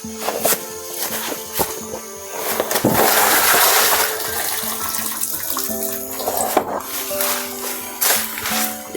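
Liquid is poured slowly onto a pile of dead chicken being composted into organic fertilizer, a loud continuous splashing gush with some gurgling and thuds, fading in and out under faint background noise.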